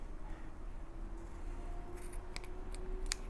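Scissors snip through black thread while making a tassel for a japamala, giving a few sharp, brief clicks near the end over quiet room noise.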